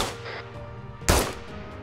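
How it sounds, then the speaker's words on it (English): Enemy gunfire in a tactical shooter game: a single sharp, loud gunshot cracks out midway, preceded by faint distant ambient noise and a brief weaker report. "We are taking fire from the southeast still"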